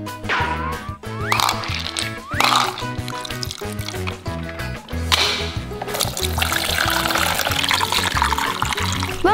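Water pours and trickles into a toy car wash for Hot Wheels cars, a steady splashing wash that grows denser in the second half, mixed with a bright tonal backing.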